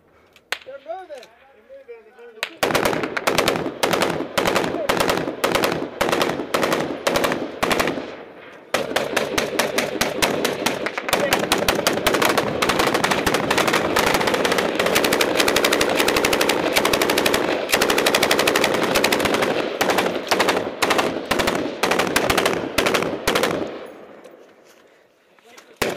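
Sustained bursts of machine gun fire during a firefight in Afghanistan, loud and close, with rapid repeated shots broken by a brief pause and continuing for over twenty seconds before tapering off.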